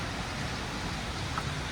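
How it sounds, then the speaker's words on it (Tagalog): Heavy rain falls steadily around a condominium in Toronto, a constant broadband hiss at moderate level with no other distinct sounds. "Malakas ang ulan siya ngayon."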